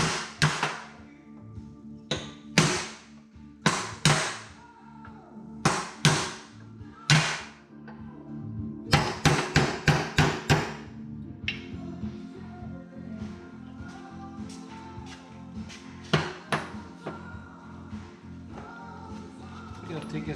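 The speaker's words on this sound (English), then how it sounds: "we're going to take our punch here and just drive these studs back out" Repeated hammer blows on a steel punch driving suspension studs out of a 1982 Corvette rear suspension, sharp metallic strikes in uneven bursts, close and loud, with a busier stretch of lighter taps and clatter later on.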